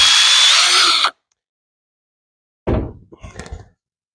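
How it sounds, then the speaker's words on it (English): A power drill whirs briefly and loudly boring a screw hole into a wooden stud, stops, then after a pause a few knocks and clatters of wood follow. "I found the stud, so I'm going to drill a hole here for the screw."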